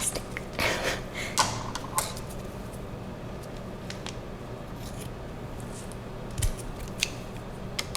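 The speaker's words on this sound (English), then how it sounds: "I'm gonna go ahead and use the scissors again because I guess I'm not very good at ripping plastic" Scissors snipping through plastic packaging during a kitchen cooking session, a few crisp separate cuts and clicks, close and quiet, with soft handling rustle between them and no talk.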